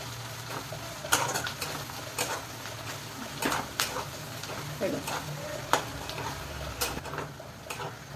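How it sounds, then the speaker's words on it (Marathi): Onion and tomato sautéing in a pan for bheja fry, a steady sizzle punctuated by repeated sharp spatula scrapes and clinks as the mixture is stirred at an uneven rhythm. "टोमॅटो आणि कांदा चांगला परतून घ्यायचा"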